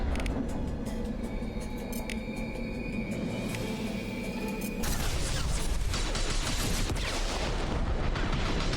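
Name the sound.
enemies firing rocket launchers in Mass Effect 2 video game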